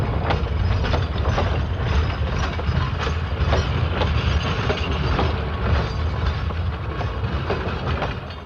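A freight train pulling into a siding rumbles past up close, with heavy low roar and rhythmic clickety-clack of wheels over rail joints, loud and continuous.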